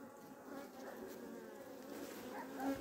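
Honey bees hum steadily at an open hive in midwinter in Adana, a dense, even buzz close by with no talk.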